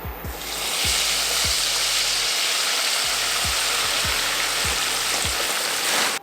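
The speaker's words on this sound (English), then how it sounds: "all we gotta do is fry them up" Frozen store-bought crinkle-cut fries frying in hot oil at 350 degrees, a loud, steady bubbling sizzle throughout with a few low clunks of handling and no talking.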